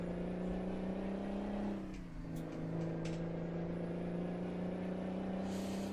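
A Mack log truck engine in American Truck Simulator drones steadily, dips briefly, then climbs again as it accelerates, its low hum continuous and close throughout.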